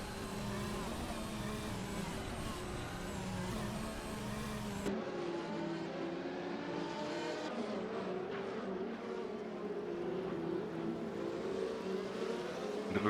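F1 race cars in a video game speeding down the straight, a continuous high, whining engine drone that shifts pitch abruptly partway through and keeps rising, loud and steady with no break.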